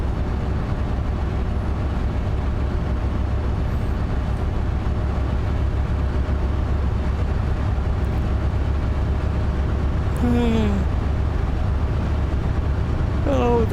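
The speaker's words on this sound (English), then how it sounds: "Oh, the combustion engine." Combustion engine of a car being driven, a steady low drone with road rumble holding constant throughout, with brief voices heard near the end.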